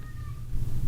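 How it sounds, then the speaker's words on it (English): A cat crying somewhere in the background of a radio room, a faint thin wavering meow over steady loud low hum and static noise, with no talk. "do you guys hear a cat crying there in the background?"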